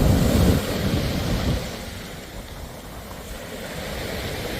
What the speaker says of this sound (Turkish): Kıyıya dalgalar.